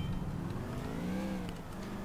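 A car in Grand Theft Auto IV pulls away with a steady engine drone that rises gradually in pitch as it accelerates, continuous and fairly loud, with no voices.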